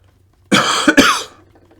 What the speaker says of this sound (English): Again, I apologise for the coughing